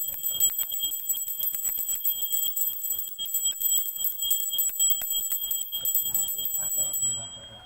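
A hand bell rung steadily during a Hindu Pradosh vrat puja, its bright metallic peals repeating rapidly and continuously for about seven seconds, close and loud, with a voice talking underneath before the ringing fades at the end.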